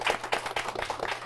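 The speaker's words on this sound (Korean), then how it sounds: "오늘 수고해주신 세 분의 MC분들 박수 부탁드리겠습니다" Scattered hand claps from a small audience at a Korean CEO talk event, offered for three MCs; short and fairly quiet, with uneven individual claps rather than a full roar.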